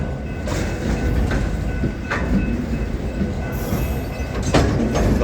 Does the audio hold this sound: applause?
no